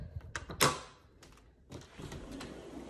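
A sliding glass door fitted with a security bar lock slides open close by, with a sharp latch click and rattle followed by a softer rolling scrape of the panel.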